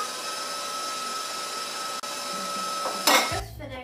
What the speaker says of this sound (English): So you want to drop the egg in and just let it mix in before you add the next one